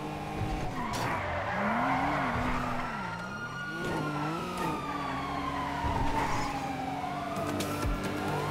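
Video game car chase with police sirens wailing and tires skidding as a police car spins out, engines and siren tones sweeping up and down, continuous and fairly loud.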